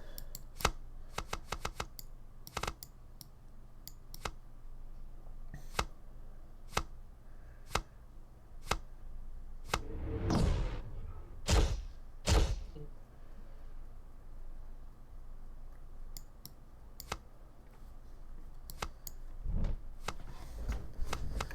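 Playing cards shuffled by hand during a late-night game stream, soft riffling bursts and crisp card snaps spread across the clip, with sparse ticking clicks and quiet background.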